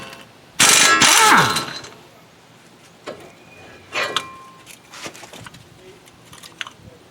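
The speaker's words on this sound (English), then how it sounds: "Let's take this caliper off." A brake caliper comes off a Nissan Pathfinder whose inner pad has worn to metal. A loud metallic clang and scrape comes first, then sparse lighter clanks and clicks.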